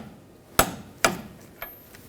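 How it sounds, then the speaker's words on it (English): Three sharp metallic clicks from a torque wrench reaching setting on the front CV axle nut of a 2000-2006 BMW X5, evenly spaced and close, with quiet pauses between. "Now we're going to torque this nut to 59 foot-pounds."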